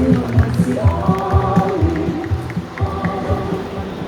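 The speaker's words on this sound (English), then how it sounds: "A round of applause for Miss Janine Taylor." A crowd at a hotel Christmas tree lighting event applauds and cheers for the general manager, with steady clapping mixed with voices and crowd murmur throughout.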